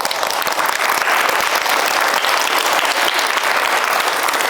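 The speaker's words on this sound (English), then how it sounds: "Let's give them another round of applause." A large audience applauds steadily and loudly after a presentation, a dense, sustained wash of clapping with no gaps, close and filling the room throughout.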